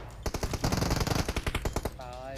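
Rapid bursts of automatic gunfire in PUBG Mobile, loud and close, with a fast rattling rhythm of repeated shots before a brief electronic whine at the end.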